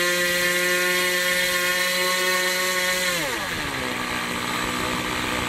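A small model airplane engine runs loud and steady with a high buzzing whine, then its pitch drops smoothly partway through and it keeps droning at the lower speed.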